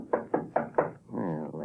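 Four sharp, evenly spaced knocks rap on a back door, close and loud, followed by a sustained voice speaking alone.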